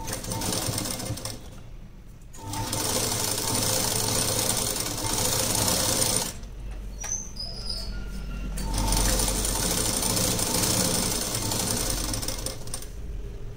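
A sewing machine stitching the neckline of a V-neck blouse, running in steady rapid bursts separated by brief pauses, with a low mechanical hum underneath and no talking.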